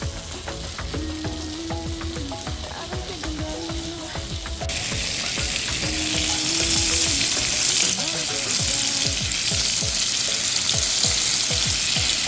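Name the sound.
butter and olive oil sizzling in a pan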